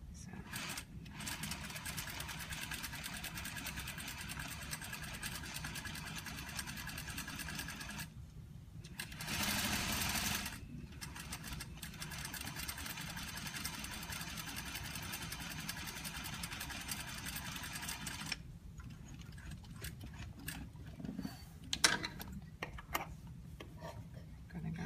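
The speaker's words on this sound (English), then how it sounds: "I'm sewing these guys together at a quarter of an inch seam" A sewing machine stitches fabric pieces together at a quarter-inch seam, running in long steady buzzing stretches with brief pauses and a few short bursts near the end, while a person talks over it.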